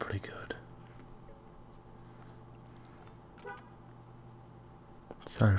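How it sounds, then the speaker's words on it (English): A short car horn toot sounds from outside at the very end, loud and abrupt, following a quiet stretch of soft whispering and faint background hum. "Sorry for that car horn."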